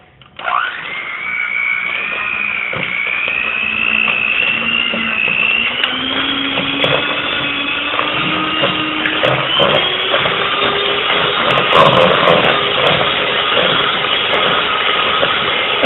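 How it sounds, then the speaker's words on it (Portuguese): An electric hand mixer whirs steadily as it beats cake batter with milk being added, its motor pitch rising slightly over time and running loud and close throughout. "E agora dá para bater com a batedeira."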